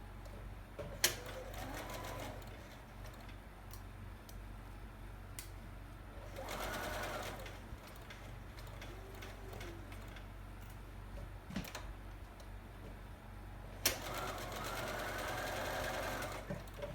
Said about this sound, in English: We're going to just stitch 1/4 of an inch just from edge to edge of the mask.